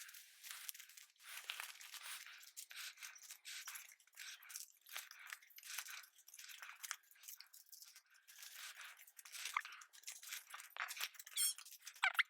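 Paper cards are shuffled and handled close by, with crisp rustling and flicking sounds in irregular bursts and short pauses between.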